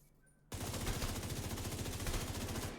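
Sustained rapid automatic gunfire from weapons in The Division 2, a loud unbroken burst starting abruptly after a quiet moment and continuing without pause.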